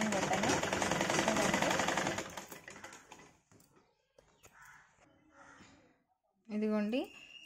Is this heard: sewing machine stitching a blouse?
yes